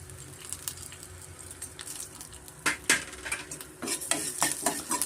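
Black pepper and coriander seeds frying in a little oil in a pan, crackling and spoon scrapes that grow busier and louder toward the end, close by.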